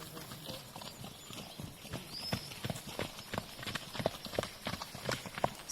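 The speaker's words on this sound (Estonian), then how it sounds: "Rüüsma Silver viib parasjagu oma hobuseid ühest külast teise" Horses led along a rural forest road between villages, their hooves clip-clopping in an uneven, overlapping rhythm, fairly close and clear over a soft outdoor background.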